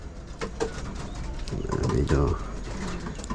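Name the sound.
racing pigeon cooing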